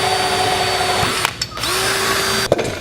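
A power drill drilling holes in a part to be bolted to a car whines steadily at high speed, stops briefly, then spins up again before a short pause and another burst.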